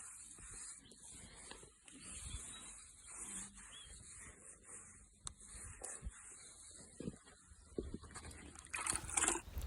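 A sweaty horse is washed down with water after an eventing round, a steady spray and trickle running throughout with rubbing and splashing bursts, louder near the end.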